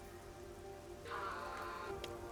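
Steady rain falls in the video game Rain Code as a faint, even hiss of patter, with a brighter burst of splashing partway through.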